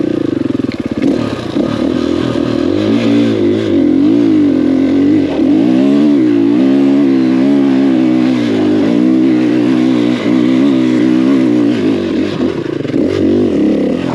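A KTM 500EXC-F dirt bike engine revs hard and unevenly while climbing, loud and close, with repeated surges and drops in pitch and some mechanical clatter, no voices over it.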